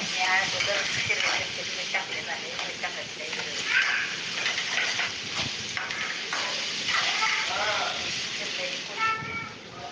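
Sliced okra sautés in a pan, giving a steady crackling sizzle with stirring scrapes, while a person talks over it for most of the time.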